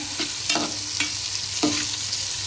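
Tomatoes sautéing in a pan for a fish kulambu, a steady oily sizzle broken by a few sharp scraping stirs of a spoon against the pan, close and fairly loud with no voices.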